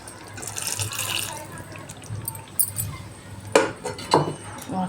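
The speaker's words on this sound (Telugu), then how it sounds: "దీంట్లో కొద్దిగా వాటర్ వేసేద్దాము." Water is poured into a mashed brinjal mixture in a pot while cooking, giving soft splashing and trickling pours with a few louder gushes toward the end over faint kitchen background.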